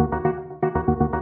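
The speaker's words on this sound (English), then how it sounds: "this one has an auto pan and an arpeggiator associated to it" Synth line run through an auto pan and an arpeggiator, a rich harmonic tone pulsing in quick repeated notes with a steady rhythmic swell, upfront and alone.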